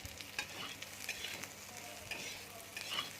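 Whole garam masala and melon seeds fry in a pan with a soft, quiet sizzle and light, repeated stirring clicks, without any voices.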